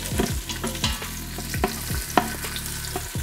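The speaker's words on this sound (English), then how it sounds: "So my onions are starting to caramelize" Onions caramelizing in an Instant Pot on sauté sizzle steadily, close and fairly loud, with repeated scraping stirs of a utensil against the pot's base and no talking.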